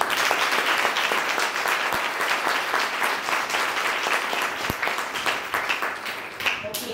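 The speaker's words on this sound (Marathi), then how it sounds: "जोरदार टाळ्या वाजवा" Loud, sustained applause from a congregation at a live Marathi Christian worship service, dense clapping filling the space throughout with a few sharper claps standing out near the end.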